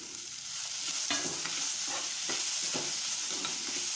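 Vegetables sizzle steadily in a hot pan while a spoon stirs them, with repeated scraping strokes every half second or so, close and fairly loud.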